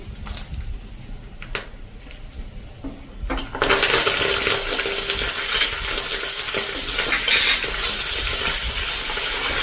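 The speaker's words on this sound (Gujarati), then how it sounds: "જો આપણો વઘાર પણ ક્રકલ થઈ ગયો છે." Cloves, cinnamon, dried red chillies and curry leaves hit hot oil as a tempering for dal dhokli, with quiet kitchen clatter, then a sudden loud, steady sizzle that carries on without pause.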